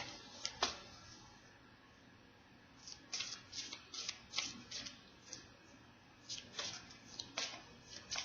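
A deck of tarot cards is shuffled by hand, making short papery riffles and soft snaps. They come in irregular clusters after a quiet start, close by and fairly soft.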